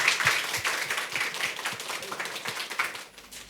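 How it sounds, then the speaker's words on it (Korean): Audience applause at a smart-city talk event in Cheonan, a dense wash of many hands clapping for about three seconds and then fading out. "다시 한번 큰 박수 부탁드릴게요"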